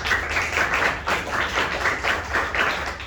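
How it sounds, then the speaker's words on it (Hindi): A group claps in an even, continuous patter for about three seconds, close and fairly loud, with no voices over it. "चलो ठीक, ताली हो जाए भाई।"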